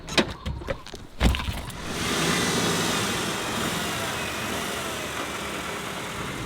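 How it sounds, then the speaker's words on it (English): A Renault Kwid rental car, a small hatchback, idles with a steady low engine hum that settles in after a few sharp clicks and a short whir at the start. "we have this little ride today, a brand new, not really new, Renault Kwid"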